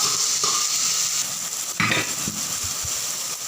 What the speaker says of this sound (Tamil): வெங்காயம் போட்டுக்கிட்டோம் இப்போ தக்காளி போட்டுக்கோம் பச்சை மிளகா கருவேப்பிலை போட்டுக்கோம்